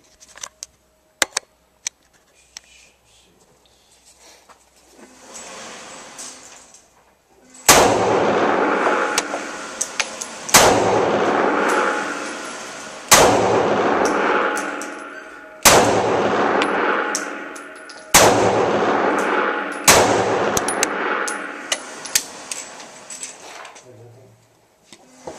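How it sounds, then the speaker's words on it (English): Rifle shots fired with Ruger ARX 56 grain polymer copper blend bullets: five sharp, loud reports spaced a few seconds apart, each followed by a long ringing decay, after a few faint clicks and handling noises. "I'm going to try out this new Ruger ARX 56 grain polymer copper blend bullet. Alright, here are the first shots."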